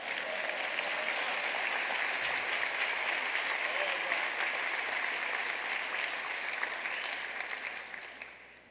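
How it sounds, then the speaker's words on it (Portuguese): Sustained applause from a large church congregation, dense and steady clapping that fills the space and tapers slightly at the end. "Será que você pode dar um aplauso a Ele?"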